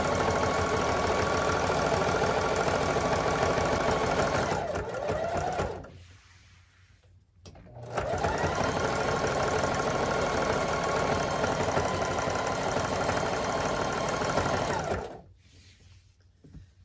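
A sewing machine stitching a jelly roll fabric rug, running in a long steady whir with a brief slowdown and pause, then a second long run before stopping, close and clear without talk.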